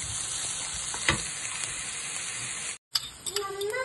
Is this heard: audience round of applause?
no